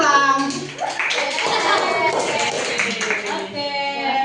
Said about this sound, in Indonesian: kelompok 2. Tepuk tangan ulang.